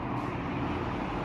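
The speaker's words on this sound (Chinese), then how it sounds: "正常开窗户的话，噪音是这样的。" Road traffic noise from a street about 11 metres away, heard through an open double-glazed window on the second floor of a residential building: a steady, dense roar of passing vehicles, fairly loud and continuous, with no talking.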